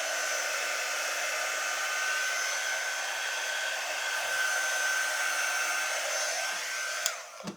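Hair dryer blowing to dry craft paste on a milk jug, a continuous steady whooshing whine held close for several seconds before a small clunk as it shuts off.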